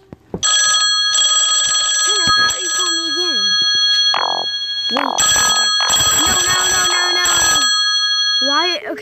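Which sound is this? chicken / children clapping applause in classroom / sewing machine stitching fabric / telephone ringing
telephone ringing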